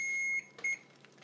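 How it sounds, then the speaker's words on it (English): A kitchen timer beeps twice while hot-process soap cooks in a crock pot: a sustained, loud electronic tone, a brief gap, then a shorter second beep, all close and without talk. "Oh, that's my timer."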